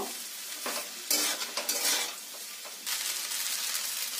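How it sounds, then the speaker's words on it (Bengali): Cooked rice is stirred into a frying pan of paneer fried rice, with a continuous loud sizzle and repeated scraping, clattering strokes of the spatula against the pan. The sound is close and no one speaks. "আগে থেকে করে রাখা ভাতটা দিয়ে দেবো, দিয়ে ভালোভাবে নাড়িয়ে নেব।"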